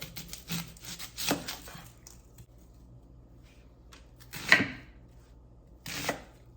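A knife chops a white onion into quarters on a board, giving a few faint, scattered knocks and thuds separated by pauses in a quiet kitchen.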